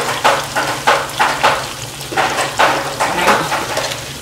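Tomatoes sautéing in a pan with onions and peppers, giving a steady sizzle broken by rhythmic scraping strokes about twice a second from stirring, close and fairly loud.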